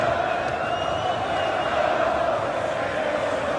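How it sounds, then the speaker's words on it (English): A Premier League darts arena crowd keeps up a steady, distant chant and murmur for a favourite player, a continuous wash of massed voices at even loudness. "Well, the crowd definitely have their favourite."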